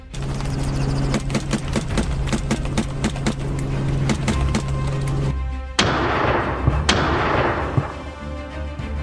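Gunshots fired from a helicopter hunting wild boar in Australia give a fast run of sharp cracks over a steady rotor drone, then two louder, more distant-sounding booming shots with ringing tails.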